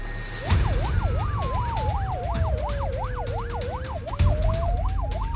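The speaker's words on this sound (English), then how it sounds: "Intensive care paramedic Hannah is now on the way, lights and sirens." An ambulance siren on lights-and-sirens response wails, sweeping rapidly up and down over steady road rumble and traffic noise, close and loud throughout.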